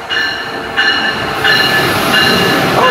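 Amtrak Palmetto number 90, led by a new locomotive, arrives at BWI Airport station, its passenger cars rolling loudly and close by with a steady rumble, metallic wheel squeal and repeating rail clicks.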